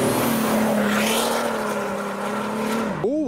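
A supercharged VW R32 Golf engine and exhaust roar loudly as the car drives past at a car show, holding a steady drone before a sharp rev swell at the end.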